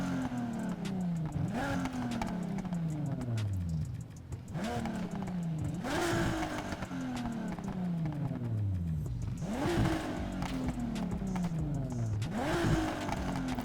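A modded Nissan GT-R's exhaust revs repeatedly in Need for Speed, pitch sweeping up and dropping back in rhythmic bursts, loud and close with exhaust crackle between pulls.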